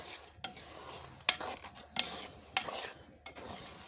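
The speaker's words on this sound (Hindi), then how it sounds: "देखें हमारे दाने कढ़ाई से बाहर आने शुरू हो गए हैं" Corn kernels roast in a kadhai over an open fire outdoors, giving soft continuous rustling and stirring with several sharp clicks and pops as kernels jump, fairly quiet with no voices.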